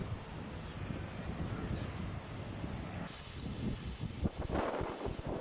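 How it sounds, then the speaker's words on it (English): Heavy wind buffets the microphone in a continuous rumbling roar, with gusts thumping harder toward the end. "It's very, very windy today, which is why the camera's being blown all over the place."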